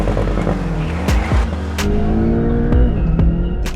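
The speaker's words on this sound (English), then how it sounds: "The Porsche Boxster GTS still crossed the line first" Porsche Boxster GTS and BMW Z4 M40i drag racing over a standing quarter mile, engines roaring loud and close with rising revs and sharp gear-change dips, no talk.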